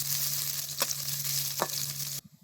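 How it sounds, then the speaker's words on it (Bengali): Chopped onion and chili sizzle in hot oil in a wok on a stove, a steady close frying hiss broken by two brief stirring scrapes before the sound cuts off abruptly. "পেঁয়াজ মরিচটাকে ভাজতে লাম।"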